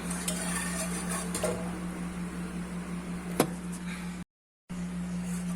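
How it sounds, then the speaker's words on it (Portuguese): Light clinks and scraping of a spoon stirring sauce in a pot, a few soft knocks against the rim over a steady background hum. "Dou uma mexidinha."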